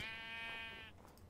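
A sheep in a video game lets out one sustained, nasal bleat lasting close to a second, clear and near, then fades into quiet background.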